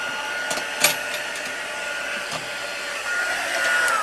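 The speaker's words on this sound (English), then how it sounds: "I'm going to hold my heat tool, like I said, about 4 inches away" A craft heat tool set to its lowest setting, held about four inches from a stamped card to heat set embossing powder, gives a steady whooshing hot-air blow. It runs continuously and grows slightly louder toward the end, with a few faint clicks.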